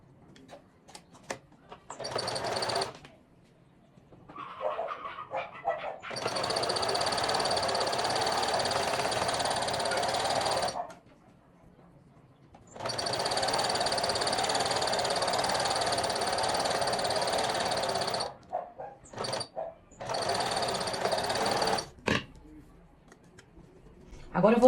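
A sewing machine stitches a straight seam joining the front and lining of a garment, running in two long, even, motor-driven bursts with a few shorter runs and quiet pauses between.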